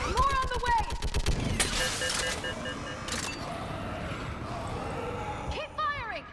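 Gunfire in the video game Mass Effect 3 comes as rapid bursts of automatic shots and single cracks, mixed with game effects, while voices shout over the battle.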